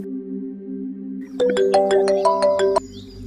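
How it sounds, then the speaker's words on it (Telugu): A phone's electronic ringtone plays while a conference call is being connected, a bright run of repeated melodic beeps for about a second and a half over a steady low line hum, with no talking. "కాల్ కాన్ఫరెన్స్ ఇప్పుడే కలుపుతాను"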